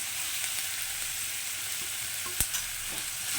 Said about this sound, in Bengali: তেলের মধ্যে পেঁয়াজ কুচিটা দিয়ে দিচ্ছি একসাথে একটু হালকা নাড়াচাড়া করে নিলাম